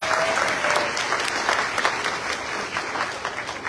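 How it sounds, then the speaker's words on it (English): Steady applause from a crowd at a graduation ceremony, a dense patter of clapping that holds at an even level throughout. "Let's give them another round of applause."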